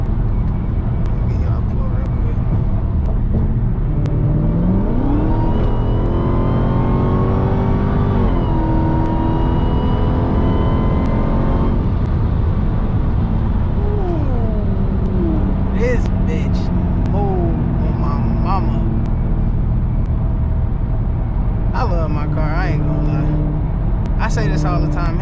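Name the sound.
widebody Hellcat car engine driving at night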